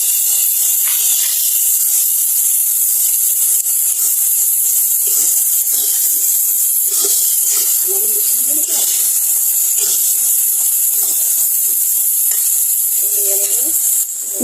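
Ginger and garlic paste sizzles in a hot pan with a steady, bright hiss, broken by occasional scraping stirs close by.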